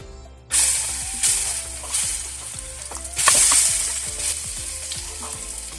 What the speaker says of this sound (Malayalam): നെയ്യ് ചൂടായതിന് ശേഷം നമ്മൾ കട്ട് ചെയ്ത് വെച്ചിരിക്കുന്ന നമ്മൾ ഏത്തക്കായും കൂടി ഇട്ട് കൊടുക്കാം